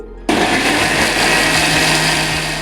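An electric mixer grinder starts abruptly with a sharp switch-on and runs as a steady, loud, high whirring drone while grinding spices for a mushroom dish, close up and continuous.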